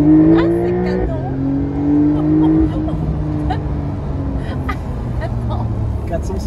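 A Porsche sports car engine with 450 horsepower revs in sport mode, loud and close, its pitch climbing and dropping through several gear-like steps, with faint voices over it.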